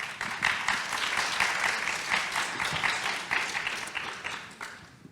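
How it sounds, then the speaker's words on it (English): Audience applause at an annual policy forum on Asia Pacific health and climate, a steady dense clapping that holds loud and even for about five seconds, with no talk over it. "give them a round of applause"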